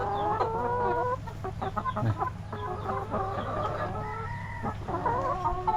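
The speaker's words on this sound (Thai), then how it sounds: "ไก่ของเฮาเนาะ" Backyard chickens cluck and crow steadily and close by, with a rooster calling among several hens, all in a constant low hum of farmyard background.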